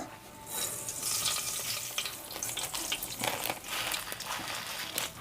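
Mustard seeds and cumin crackle and sizzle in hot oil, a steady broadband frying hiss with scattered pops and stirring scrapes, close and fairly loud throughout.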